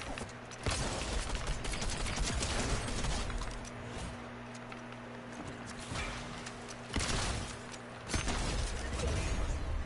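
Gunfire in a ranked Fortnite Zero Build match, a SCAR assault rifle firing in loud bursts with rapid rattling shots and mechanical clatter, dense through most of the stretch with short pauses between volleys.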